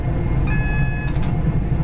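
Class 390 electric train from Train Sim World 5 running on a London Euston line, a steady low rumble and rolling drone with faint whining tones, continuous and close throughout.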